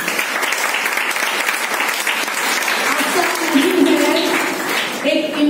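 Loud, steady applause from an audience at a talk, a dense continuous roll of many hands clapping that holds for over five seconds, with voices and cheers rising faintly beneath it.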